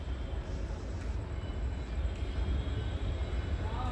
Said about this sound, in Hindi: देखिए सामने कोई ट्रेन आती हुई भी दिख रही है।